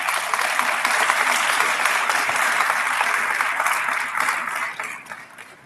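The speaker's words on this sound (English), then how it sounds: "give yourselves a round of applause for being engaged." Sustained applause from a sizable crowd fills the room for several seconds, then gradually fades away.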